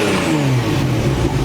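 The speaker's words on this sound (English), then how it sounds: "And I'll start the car, you guys can hear it, because I want to hear it." A Ferrari Testarossa's flat-12 engine catches and revs in a repair shop, a loud close-up roar with rising and falling pitch sweeps as the throttle is blipped, with no talk.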